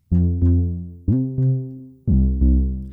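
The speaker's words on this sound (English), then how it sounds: "Next, we're gonna move on to a plucked bass." A low plucked synth bass plays short notes in a steady rhythm, each sharply attacked and quickly decaying, close and clear with nothing else.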